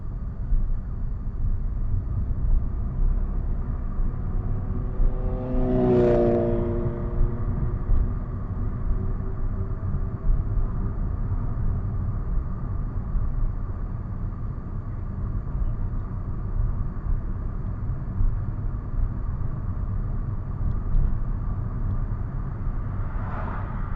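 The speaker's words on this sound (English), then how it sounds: "Traffic." Traffic at a UK roundabout is heard from inside a car during a driving lesson, a constant low engine and road rumble with one vehicle sweeping past nearby and another approaching at the end, no talk.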